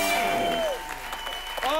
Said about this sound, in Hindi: जोरदार तालियां हो रहे हैं